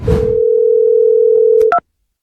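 A steady telephone dial tone hums alone for nearly two seconds, opening with a brief burst of noise, then ends with a couple of quick clicks and a short higher beep as a number starts to be dialled.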